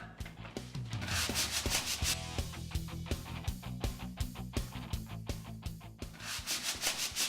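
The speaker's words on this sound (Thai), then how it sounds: "พี่กำลังขัดกระดาษทรายอยู่" Steady rhythmic rubbing of sandpaper against wood, close and fairly loud, with repeated back-and-forth strokes and no talking.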